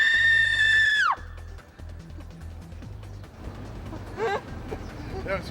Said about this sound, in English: Give me a big scream.